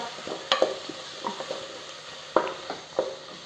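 Crushed shallots stir-fried in a pan for mutton curry, a soft steady sizzle broken by scattered scraping stirs, with louder strokes near the start and again toward the end.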